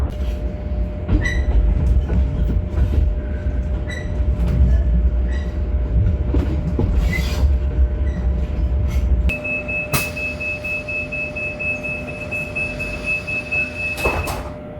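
A Sheffield Purple Route tram rumbles steadily along the rails with a low mechanical drone, then a high electric whine and door chimes as it slows near the end.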